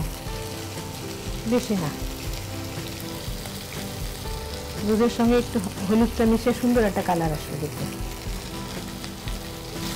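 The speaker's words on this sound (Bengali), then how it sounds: "যে মশলাটা ভাজা হচ্ছে" Ground coriander, cumin and turmeric fry with milk in a pan for a taro and potato gravy, giving a soft steady sizzle that someone talks over, with a louder bubbling, crackling burst midway.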